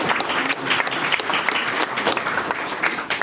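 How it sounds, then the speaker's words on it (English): An audience at a township Veterans Day ceremony breaks into dense, steady applause, many hands clapping at once and fairly loud throughout. "that deserves a round of applause"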